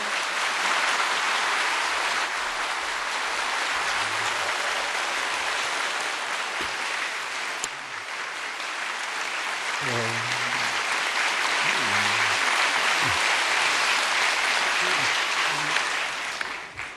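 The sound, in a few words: congregation applause welcoming a pastor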